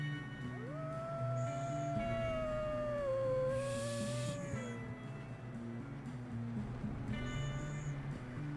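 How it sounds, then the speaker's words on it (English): Wolves howling in the video game Red Dead Redemption 2, a long rising and falling howl joined by a second, fainter howl, heard over a low steady droning game ambience. "Wolves. Look up there."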